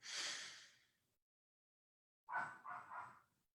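A deep nasal inhale during a pranayama breathing exercise, close and breathy, then a long silence before a pulsing, strained breath sequence in three surges.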